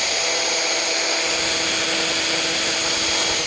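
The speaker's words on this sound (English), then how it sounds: "I go with the drill because I don't have a metal screw." A power drill bores into metal on a home building job, a steady continuous whine with a high-pitched tonal edge holding loud and even for the whole stretch, no voices.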